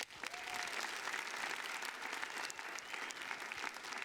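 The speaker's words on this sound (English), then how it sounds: "one big round of applause for everyone who gave tonight" Dense, steady audience applause at a Rose Queen coronation, a crowd clapping continuously and fairly evenly for several seconds with no voices standing out.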